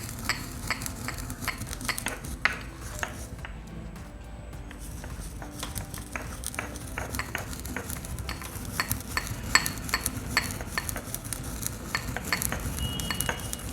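Stone mortar and pestle pounding ingredients for a homemade remedy, with steady, rapid knocks and grinding scrapes running close and continuous throughout, no talking.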